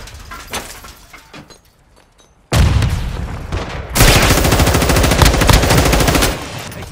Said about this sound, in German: Granate geworfen!